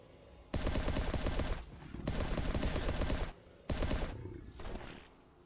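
C4 charges detonating in the survival video game Last Day on Earth: three loud, rough, roughly one-second bursts, each starting abruptly, with short quieter gaps between them.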